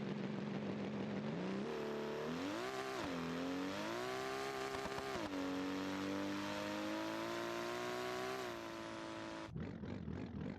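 A drag-built car launching hard from the line in BeamNG Drive, its engine revving loud and climbing through a long rising pull with brief shift dips, close and continuous, then cutting off near the end.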